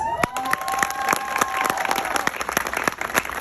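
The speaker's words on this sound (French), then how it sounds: "Merci d'applaudir Madame Monique Peters." Applause for a retiring colleague at a workplace farewell party at a CPAS: steady, fairly loud clapping from a crowd, with a few cheers and faint voices mixed in throughout.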